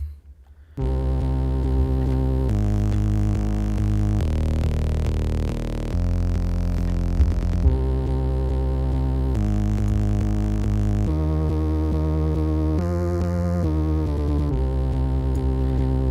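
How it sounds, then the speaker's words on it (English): A loud electronic bass line from the Incredibox Soulgem mod loops in blocky repeating segments, droning and throbbing with abrupt pitch changes between sections. "Now we have the bass."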